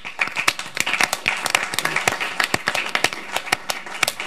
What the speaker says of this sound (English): Can we give Kenna Jo Matthews a round of applause?